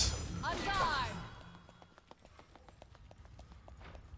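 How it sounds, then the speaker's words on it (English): Footsteps of the Nemesis character in the video game SMITE, a quick series of light clip-clop taps in a steady rhythm after a brief louder burst of game effects, fairly faint and close. "So the two Nemesis footstep noises together."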